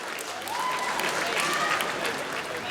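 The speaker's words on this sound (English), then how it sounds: "Ladies and gentlemen, round of applause for both fighters this evening." An arena crowd at a Phoenix FN28 mixed martial arts event applauds both fighters after the bout, a broad, sustained roar of clapping with a faint announcer's voice beneath it.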